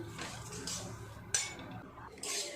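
Rice being stirred and fried in a pan for pulao, with scraping and clinking of a utensil against the pan in intermittent strokes, fairly close and quiet.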